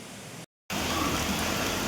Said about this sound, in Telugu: వర్షం చూస్తే ఇలా పడుతుంది